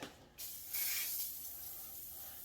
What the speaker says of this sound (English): you take WD-40 and you spray it